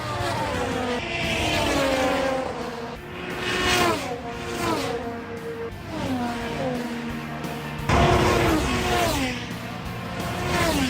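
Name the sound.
IndyCar race cars passing at Indianapolis Motor Speedway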